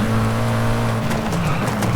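Mitsubishi Eclipse GSX in Forza Horizon 5 climbing a hill, a loud steady engine drone with strong harmonics and a brief shift in pitch, alone without talk.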